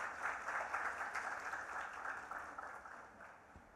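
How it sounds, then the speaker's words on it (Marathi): Applause from an audience at a Loksatta literary and cultural festival, a dense continuous clapping that swells briefly at the start and then slowly fades, heard from a distance in a large hall. "यासाठी एकदा जोरदार टाळ्या व्हायलाच हव्या।"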